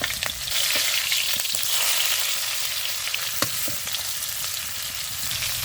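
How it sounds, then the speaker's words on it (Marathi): Stuffed bitter gourds fry in oil for Maharashtrian bharli karli, producing a loud, steady, hissing sizzle with a few light taps from a utensil. "शिस्तीत असे तेलात सोडायची कारली वरची बाजू खाली करून घ्यायची"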